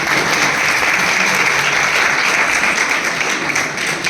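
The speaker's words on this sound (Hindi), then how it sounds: "थोड़ी तालियां हो जाए, मैं आपकी प्रेज कर रहा हूं।" Steady audience applause from a student gathering in Dharamshala, dense and loud from start to finish with no speech over it.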